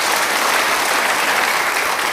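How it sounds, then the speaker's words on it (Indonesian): A church congregation claps at a sermon, a loud, dense and sustained round of applause from many hands, steady and unbroken with no voices standing out. "Beri tepuk tangan bagi Tuhan"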